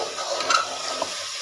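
Masala fries in a karahi while a spoon stirs it, producing a loud, close sizzle with continuous scraping and a couple of sharper clicks from the spoon against the pan.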